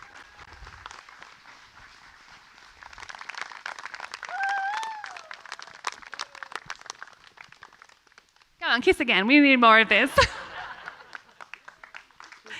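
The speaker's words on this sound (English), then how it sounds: "Keep that applause coming." Wedding guests applaud and cheer after a kiss at a ceremony, with steady clapping throughout, voices and laughter over it, and a loud burst of whoops and shouts before the clapping tapers off.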